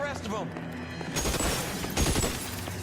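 Rapid automatic gunfire erupts in LA Noire after a moment of speech, a sustained loud rattling burst with a heavier cluster of shots near the end while voices talk over it.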